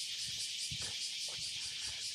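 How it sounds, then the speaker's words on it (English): Loud, steady summer cicada chorus in Kobe, Japan, a continuous high buzzing drone throughout with faint low street sounds beneath. "Good old sound of summer in Japan. Cicadas. So loud."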